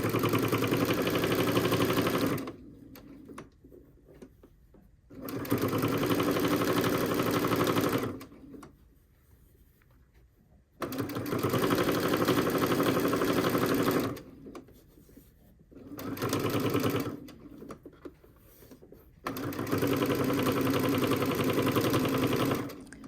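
A sewing machine stitches a string quilt block in loud, steady runs of rapid mechanical whirring, stopping and restarting several times with quiet gaps between bursts.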